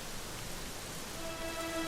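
Steady rain falls in Dragon Quest XI: a constant, even hiss of downpour with faint tones emerging near the end.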